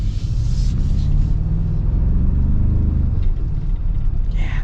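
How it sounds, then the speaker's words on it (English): A 2026 Toyota Tacoma TRD Pro with a 4-cylinder engine accelerating, heard as a loud, steady low rumble and road drone from inside the cab with no talk. "the engine isn't quite as exciting as what's in the Ranger Raptor, but it's got enough pep in its step that it feels impressive"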